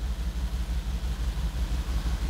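Mercedes-AMG G63 V8 engine idling with a steady, loud low rumble and faint rhythmic pulsing throughout, no voices.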